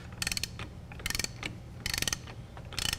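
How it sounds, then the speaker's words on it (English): A ratchet wrench loosening a 34 mm axle nut on a Pontiac Montana during a wheel hub job, several short bursts of rapid metallic clicking separated by pauses, close and crisp, no talking. "Just simply remove this axle nut itself."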